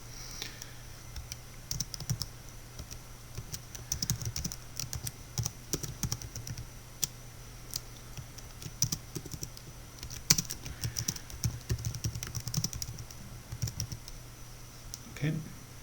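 Code is typed on a computer keyboard in a steady, close run of light clicking keystrokes over a low electrical hum, continuing for the whole stretch with brief irregular pauses.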